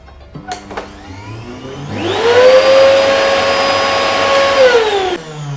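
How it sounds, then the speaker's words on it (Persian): A household vacuum cleaner under test switches on with a rising whine, runs loud and steady for about three seconds, then cuts off, preceded by a couple of clicks. "بله بازم مشکل صدای زیاد جاروبرقی"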